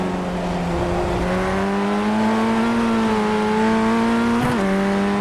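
A Formula Ford FF1600 race car engine in the iRacing simulator at Rudskogen holds a loud, steady high-revving drone that rises slightly in pitch, with a brief dip near the end, heard alone.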